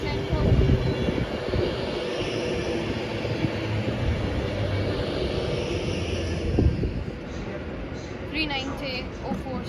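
A Class 390 electric train on the Glasgow Central to London Euston service passes at Motherwell station, a steady broad rumble and rush throughout with a slight surge near the end, as a voice speaks over it.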